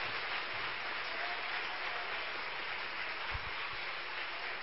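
A church congregation applauds together at a preacher's call to praise, a steady, dense wash of clapping that holds at an even level throughout without any talking.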